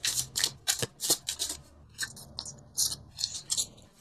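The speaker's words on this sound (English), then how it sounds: "I'm going to pull 2 more cards for you" Tarot cards being shuffled and drawn from a deck, a close, crisp series of rapid riffling and sliding bursts with brief pauses between them, no voice.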